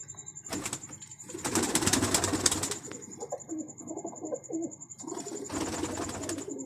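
Pigeons at a pigeon club coo in repeated low throaty phrases, close and clear. A constant high electronic tone runs underneath, and there are bursts of broadband rustling or handling noise near the start and end.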